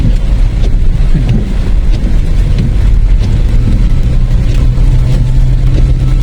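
Rain falls steadily on a car at the Phu Thap Boek viewpoint in Phetchabun, making a dense, constant patter over a low engine hum, with no talking.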